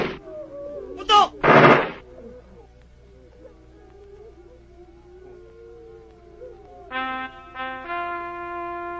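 Two loud gunshots crack in quick succession in a Tagalog action film, followed by quiet, then sustained brassy tones that sound like a bugle.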